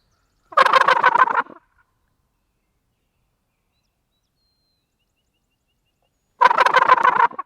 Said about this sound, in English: we just had that bird gobble